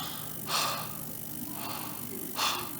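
Heavy breathing through the mouth, closely miked, with two loud airy breaths about two seconds apart and quieter breathing between them, while the soft palate is held up and closed.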